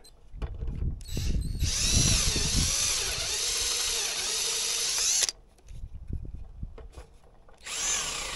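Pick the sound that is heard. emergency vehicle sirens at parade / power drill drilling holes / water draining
power drill drilling holes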